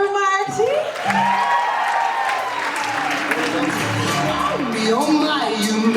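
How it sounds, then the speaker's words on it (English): An audience at the Wexford Rose of Tralee 2022 applauds Marty, loud and sustained clapping mixed with cheers and whoops while a voice and music carry on above it. "Ladies and gentlemen, a round of applause for Marty."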